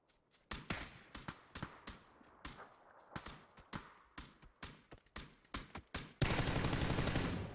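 Gunfire in a shooting video game: a steady run of sharp single shots and short bursts at close range, ending in a loud continuous burst of fire.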